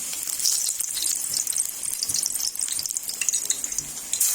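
Pakora batter of potato fritters dropped by hand into hot oil, crackling and sizzling loudly and continuously with dense bright spatters throughout.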